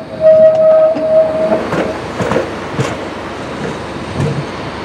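A Nottingham tram passes near Triangle Junction, a brief tonal whistle or whine opening over a rolling rumble with repeated rail clicks, loud and near, then easing off.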